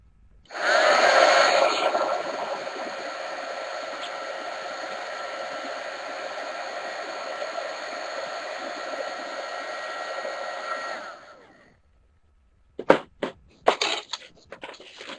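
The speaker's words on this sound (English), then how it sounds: "Mine's a Milwaukee heat gun." A Milwaukee heat gun blows hot air onto plastic petals cut from a water bottle. It gives a steady, close whooshing roar for about ten seconds, then cuts off, and a few faint crinkling handling sounds follow.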